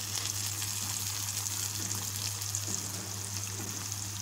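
Onions frying in a pan for a Bengali broiler chicken curry give a steady, continuous sizzle with a soft hiss that stays even throughout, close by, with no talking.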